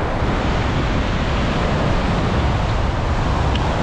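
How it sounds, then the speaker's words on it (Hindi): Strong wind and surf at a stormy beach in Dagestan, heard as a loud, unbroken roar of gusts and crashing waves buffeting the microphone. "सिर्फ पानी पानी है और हवा बहुत चल रहा है जोर का।"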